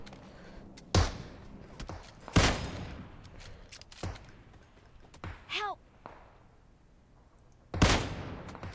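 Gunfire in the mobile battle royale game PUBG Mobile: several loud, sharp shots at irregular intervals, separated by quieter stretches, with a brief rising electronic chirp in between.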